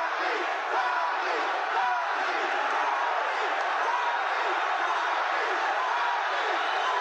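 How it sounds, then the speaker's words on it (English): Boxing crowd at the Sugar Ray Leonard versus Thomas Hearns fight chanting for Muhammad Ali and Thomas Hearns, a dense continuous roar of many voices with rhythmic chanting, loud and unbroken. "the crowd has been chanting for Muhammad Ali and Thomas Hearns"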